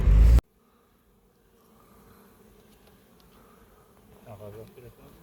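Honey bees hum around a beekeeper, a faint, steady buzzing that builds slightly toward the end after a brief loud burst at the start, with no voices.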